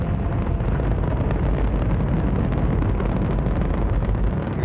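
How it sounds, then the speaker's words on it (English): A rocket lifting off with solid boosters igniting, a dense continuous roar and crackling rumble that stays loud and unbroken from start to finish, with no voices. "It is just a huge explosion"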